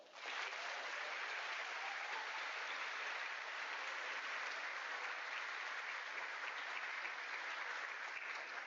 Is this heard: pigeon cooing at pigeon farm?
no